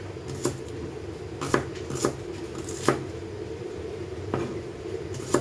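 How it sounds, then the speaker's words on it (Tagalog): Knife slicing through an onion on a cutting board in a home kitchen, a handful of spaced crisp taps over a steady background hum, close and fairly loud. "ito yung ating sibuyas. Bali, gagayat-gayatin lang ng ganito"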